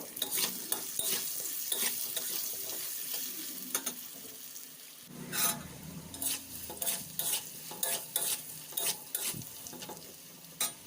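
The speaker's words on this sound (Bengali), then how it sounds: "দিয়ে দেব স্বাদ অনুসারে লবণ দিয়ে আলুটি ভালো করে একটু লাল করে ভেজে নেব।" Potatoes with turmeric and salt fry in a pan as a spoon stirs them, giving a continuous close sizzle broken by repeated scraping strokes that grow more rhythmic toward the end.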